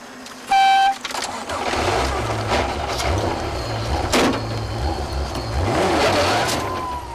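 Rally car engine on a stage in the Tour of Mull Rally, with the car beached and stuck, the engine droning and revving unevenly near and loud, plus a brief horn-like blip near the start.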